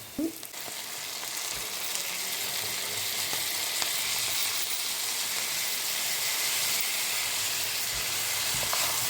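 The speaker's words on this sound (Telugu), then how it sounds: "ఈ ఆనియన్, గార్లిక్ అండ్ అల్లం ఈ మూడు కొంచెం వేగే వరకు మూత పెట్టి 1 నిమిషం ఆపాలి" Onion, garlic and ginger fry in a covered pan, a loud steady sizzle and hiss holding evenly throughout, with a faint clink near the start.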